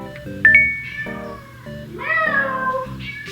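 A pet cat named Nana gives several close, loud, drawn-out meows one after another, with a short quiet gap between them and no talking over them.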